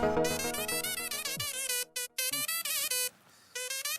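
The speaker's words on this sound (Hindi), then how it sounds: "मेरे ऑफिस से फोन है।" A mobile phone rings with a bright, looping melodic ringtone, loud and close, broken by a couple of short pauses and with no voices over it.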